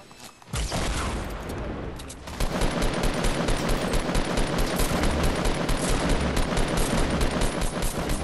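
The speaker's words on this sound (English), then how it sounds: "They're shooting down at us." Fortnite gunfire from enemies firing down from above crackles in dense, continuous rapid bursts that fill the stretch, loud and close after a brief quieter start.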